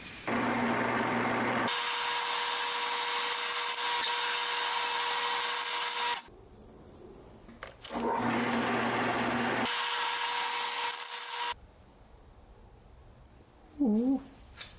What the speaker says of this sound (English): I'm marking this and drilling these holes right now while the piece is flat